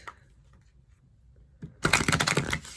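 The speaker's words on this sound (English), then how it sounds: "I do want to take a moment to shuffle this deck really well" A deck of tarot cards being shuffled close by: quiet handling at first, then a loud burst of rapid riffling clicks and flutters in the last second.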